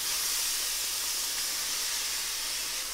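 Chopped tomatoes and thinly sliced onion hit a pan of browned cumin seeds and sizzle in a steady, loud, continuous hiss with no voices.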